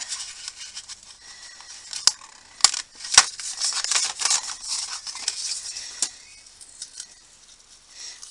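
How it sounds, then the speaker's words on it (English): Tape peels slowly off a die-cut paper card panel, a faint, close, hissing rasp broken by a few sharp little ticks as it lifts away. "I'm just going to carefully remove"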